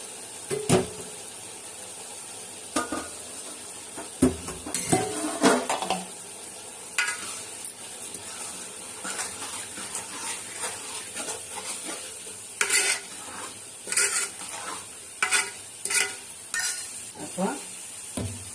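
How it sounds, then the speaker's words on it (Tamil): Dried yellow fish karuvadu going into a pan with plantain and frying, a low sizzle under repeated spoon scrapes and clanks against the pan, coming in irregular bursts, without talking. "இப்போ இந்த மஞ்சள் கருவாடு நல்லா கழுவி வச்சு கருவாடை இதில் போட்டுக்கலாம்"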